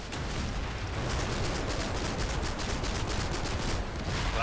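Sustained machine gun grazing fire in Combat Mission rolls on in a dense, continuous rattle of distant shots, steady and unbroken with no voices.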